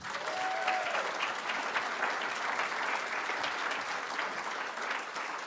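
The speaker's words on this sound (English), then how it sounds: "Can we give that a clap?" An audience claps warmly at a brain injury awareness event, dense sustained applause from a full room that stays level throughout with no talk over it.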